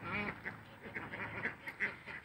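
A pet duck quacks repeatedly in a quick run of nasal calls, close by and moderately loud over a steady background hum.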